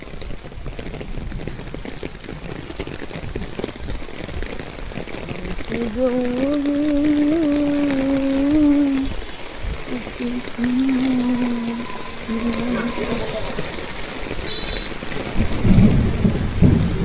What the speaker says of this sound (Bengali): এখন পর্যন্ত আবার শুরু হয়েছে বৃষ্টি